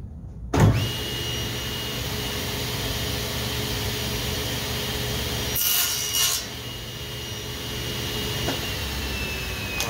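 A hand saw cuts small wood pieces for a scratch-built RC plane fuselage, a steady rasping stroke close to the mic, with a sharp knock at the start and a brief brighter scrape near the middle.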